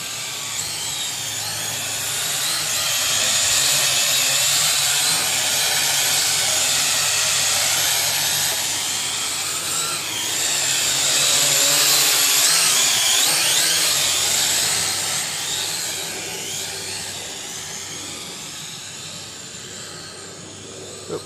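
A Syma X8SW FPV quadcopter drone flies nearby with a continuous high buzzing whine that swells and fades as it moves closer and farther away.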